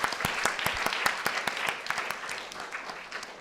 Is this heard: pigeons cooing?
no